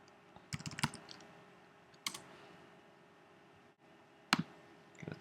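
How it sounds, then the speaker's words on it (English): Keys on a computer keyboard are typed in short bursts of quick clicks separated by quiet pauses, close and faint, with no voices. "So if I start typing, it starts searching in the labels of available documentation entities."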